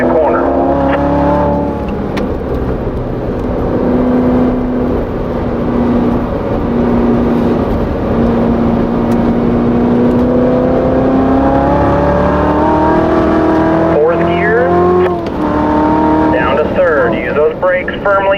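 A race car laps a track at a performance driving school, its engine holding a loud, steady drone that climbs gradually in pitch, with a voice speaking over it.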